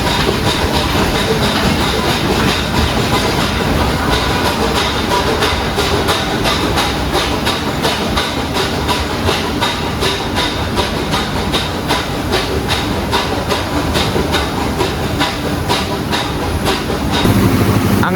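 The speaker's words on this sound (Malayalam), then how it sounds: "ടോയ് ട്രെയിൻ തന്നെ മേട്ടുപ്പാളയത്ത് നിന്ന് ഊട്ടി വരെ പോയിട്ട്" The Mettupalayam to Ooty toy train runs loud and close, a steady rumbling roar with rhythmic clickety-clack from the wheels on the rails and a hiss of steam, with no voices.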